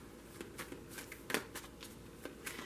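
Tarot cards are shuffled by hand, a quiet, uneven run of soft riffling flicks and slaps close by, with no one speaking.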